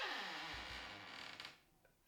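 A slow, drawn-out creak of a door swinging open, wavering in pitch, followed by a couple of soft knocks and clicks as it settles.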